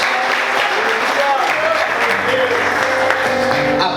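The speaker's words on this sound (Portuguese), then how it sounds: "Você pode aplaudir o Senhor" A church congregation applauds during a sermon, a dense, steady wash of clapping filling the hall throughout, loud and continuous with voices mixed in.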